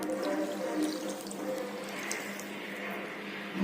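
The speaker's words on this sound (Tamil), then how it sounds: "ஒரு 150 மில்லி அதை நான் பால் ஊற்றிட்டேன்" Around 150 ml of cooled milk pours into a mixer jar for a banana kulfi, a soft, continuous liquid splashing and gurgle that stays close and steady.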